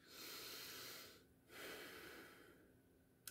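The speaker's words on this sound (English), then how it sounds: "doing some slow deep breathing" Slow, deep purposeful breathing, heard as one long soft inhale followed after a brief pause by a longer, gradually fading exhale, quiet and close, with no talking.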